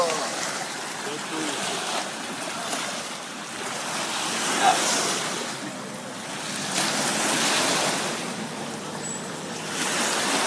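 Small waves wash steadily onto a tiny beach in St. Petersburg, Florida, with soft surges and gentle breaking close by under a bed of wind noise.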